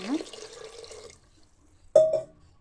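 Water pours into a pressure cooker holding chopped brinjal and drained chickpeas, a close splashing gush for about a second, then a sharp clack of a vessel on metal and a short second splash.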